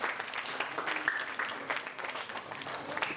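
An audience at a motivational talk claps fairly quietly and continuously for about three seconds, a soft uneven patter of many hands heard from a distance.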